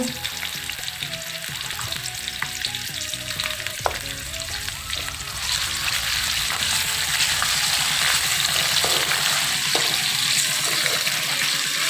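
Sliced onions for beef pulao hit hot oil in a pan and fry with a loud, continuous sizzle, punctuated by occasional clinks and stirring scrapes, close up and without talk.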